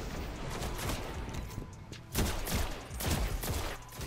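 Auto rifle firing in Destiny, rapid bursts of gunfire in two stretches with a brief lull between, loud and close with no talking.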